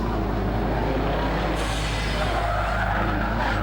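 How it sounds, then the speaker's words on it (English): A Subaru WRX hillclimb car pulls hard out of a hairpin, its engine a steady, loud, buzzing roar that holds throughout with a slight shift in tone midway, and no voices over it. "Patrick Hitchcock now in the WRX making his way out of the hairpin"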